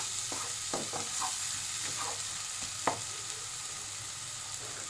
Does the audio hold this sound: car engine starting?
no